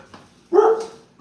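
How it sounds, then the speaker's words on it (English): One dog gives a single short bark with a whimpering tail in a household with several dogs, close and fairly loud, with quiet room noise before and after. "Everyone just starts barking at once."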